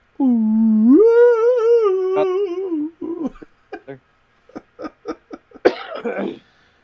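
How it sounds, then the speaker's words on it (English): A long, drawn-out vocal groan gives way to a series of short, sharp coughs right up against the microphone. "pardon me coughing to the microphone."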